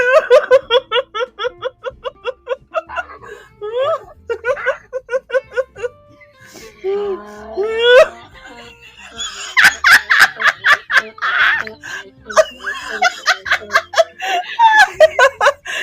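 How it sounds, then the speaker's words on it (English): Loud, close donkey braying in rapid wheezing bursts, rising and falling hee-haw cycles that sound almost like laughter, coming in several bouts. "That's the sound of a donkey laughing his ass off at a dog"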